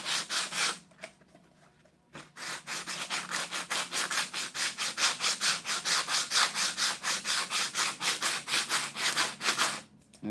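Hand sanding of bondo body filler on a custom fiberglass car mirror prototype: quick, steady back-and-forth rasping strokes, close and crisp, after a short pause near the start.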